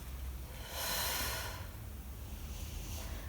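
During a beginner Pilates core exercise with a resistance band, a few soft, airy exhalations and inhalations sound close but faint over low room hum, with one longer breath out standing out.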